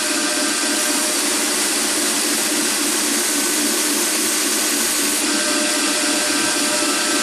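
A belt grinder hollow grinds a heat-treated knife blade, giving a loud, continuous abrasive roar and whine that holds steady throughout with no pauses.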